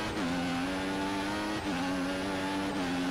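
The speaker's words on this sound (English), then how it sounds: "Coming down the long straight here, we get a whiff of the dirty air from Ricciardo there, giving us a boost of speed" Formula 1 cars race in the F1 2014 video game at the Belgium circuit. A loud, sustained engine whine holds steady down a long straight, dipping briefly at each upshift, with no talk over it.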